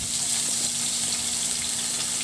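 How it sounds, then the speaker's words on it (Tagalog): Garlic sautés in hot oil in a pan, a steady, close, even sizzle with no talking over it. "at igisa ko na yung bawang"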